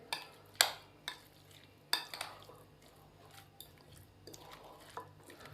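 Flour being quickly stirred into egg-coated potato fries in a bowl, with scattered sharp clinks of a utensil against the dish and soft scraping between them, fairly faint and close, no talking.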